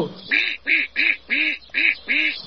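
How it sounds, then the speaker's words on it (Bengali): Six rapid nasal quacks from two ducks in an even rhythm, close and loud, each a short harsh call with a hissing edge. "বিতি কিচ্ছিরি ভাবে ফ্যাস ফ্যাস করে উঠল হাঁস দুটো"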